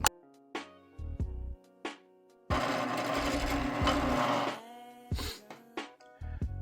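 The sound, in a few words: drill press drilling a shaft with cutting fluid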